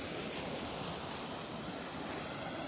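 Rough surf washes onto a beach in North Naples, Florida, a steady, faint broadband rush of breaking water with no distinct individual waves and no voices.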